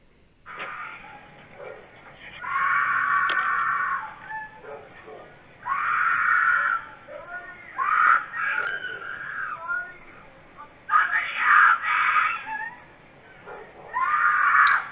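Frantic high-pitched screaming and wailing picked up by a doorbell camera, coming in repeated loud bursts of a second or two with brief gaps between them, harsh and strained over faint background noise.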